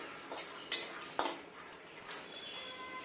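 Cashews, almonds and peanuts being stir-roasted in a pan for a makhana chivda, with a utensil scraping and clinking against the metal, two sharper knocks standing out over a steady dry rustle.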